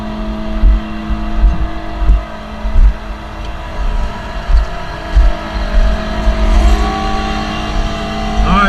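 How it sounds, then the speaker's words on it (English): A truck-driven pump loads crude oil into a tanker, with a loud steady engine drone and mechanical whine, thumping pulses recurring about every second and a rising whine near the end. "Now we're pumping oil."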